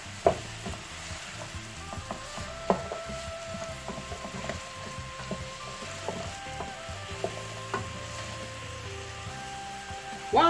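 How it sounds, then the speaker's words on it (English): Vegetables stir-fry for Nigerian chicken fried rice, a steady low sizzle with scattered clinks and scrapes from stirring throughout, fairly quiet and with no talk. "So I'm going to stir fry this for 3 minutes."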